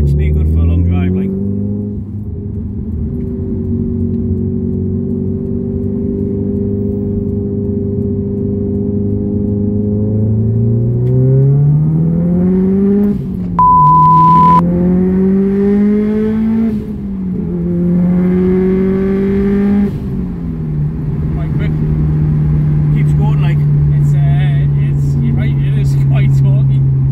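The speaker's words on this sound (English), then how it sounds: "this thing sounds savage when you're in it. Sounds savage when you're behind it, actually" A forged JDM Subaru Impreza STI on a test drive gives a loud, steady engine and exhaust drone from inside the car, with pitch climbing and falling through gear changes while people talk over it.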